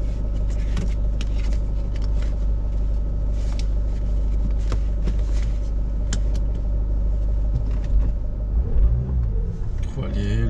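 A Fiat Ulysse engine idles with a loud, steady low rumble held close by, with someone talking over it throughout.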